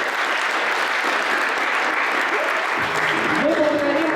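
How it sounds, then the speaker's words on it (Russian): Sustained, dense applause from a forum audience at Buryat State University during a youth volunteer forum, steady and loud throughout, with a voice or tone briefly rising over the clapping near the end. "Ваши аплодисменты."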